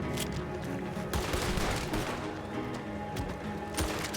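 Rapid bursts of gunfire from Red Dead Redemption 2 crackle in dense, overlapping volleys, with sharp shots and heavy bangs layered over continuous battle noise and no talking.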